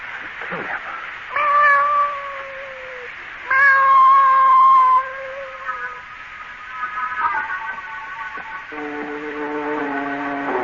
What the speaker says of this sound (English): I'm bringing this cat in here.